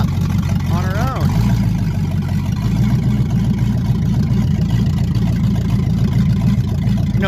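A 1970 Pontiac LeMans engine idles loud and steady at close range while the car backs out of a shop, a low rumbling drone throughout with a brief higher squeal near the start.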